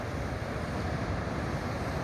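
Ocean surf breaks as white water over a sandbank stretching along a beach, a steady, dense roar of waves mixed with wind buffeting the microphone, continuous and fairly loud with no voices.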